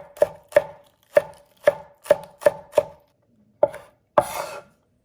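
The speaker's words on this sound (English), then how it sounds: "And then cut some green onions." Green onions being chopped with a knife on a board, seven sharp close knocks in an uneven rhythm, then two more after a short pause, the last one ringing a little longer, with no talking.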